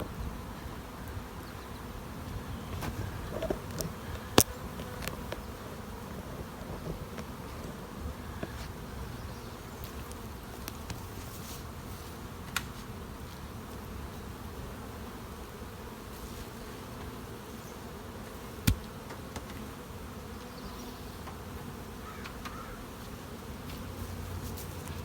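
Honey bees buzz steadily around beehive boxes during a honey flow harvest, a continuous low hum close by with a few sharp clicks and knocks from handling the boxes.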